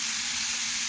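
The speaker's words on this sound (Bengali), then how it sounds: "এইভাবে নাড়তে নাড়তে দেখুন মিশিয়ে একটু ভেজে নিচ্ছি।" Cabbage and spices fry in a hot pan while being stirred, giving a brief, steady, close sizzling hiss with no voices.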